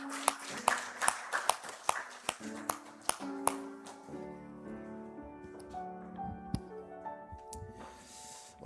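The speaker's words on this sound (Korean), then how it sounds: "우리 하나님께 영광의 박수 올려드리겠습니다" Congregation clapping during a Sunday morning Thanksgiving church service: a string of sharp, evenly spaced claps near the start, then sustained organ or keyboard tones with a few scattered claps over the music.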